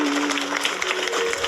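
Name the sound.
audience applause in assembly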